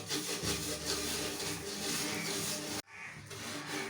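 Half an onion speared on a knife tip is scrubbed across a rusty iron pan, producing a close, continuous rough rasping rub that cuts out briefly near the end and then starts again.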